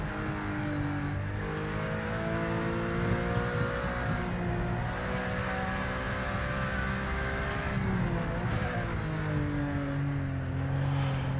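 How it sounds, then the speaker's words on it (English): A Porsche race car engine in Project Motor Racing drones steadily at high revs, its harmonics rising and falling through gear changes, continuous and loud with no talk over it. "Porsches sound good."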